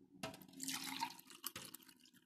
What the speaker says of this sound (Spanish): Otra vez voy a tomar otra agua.